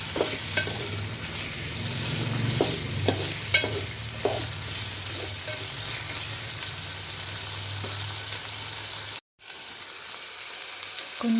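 Spice paste for a vegetable biryani stirred and frying in a pan, a steady close sizzle with scraping stir strokes through most of the clip before a brief cutout, no talking.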